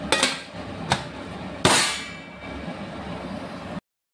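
A lid is pressed shut tightly onto a food container, making three sharp clacks in quick succession, the last the loudest, followed by a faint lingering room tone.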